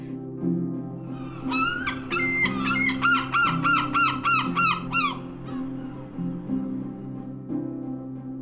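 Gulls call repeatedly at a gull colony, a rapid series of sharp, rhythmic squealing cries standing out over a steady low hum.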